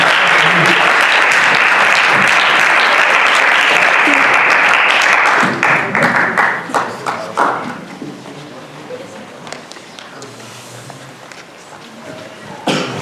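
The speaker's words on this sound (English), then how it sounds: "give a hand clap for Jesus" A crowd at a North Little Rock, Arkansas meeting to end abortion claps loudly for several seconds. The applause then breaks into scattered, thinning claps with faint voices and room noise.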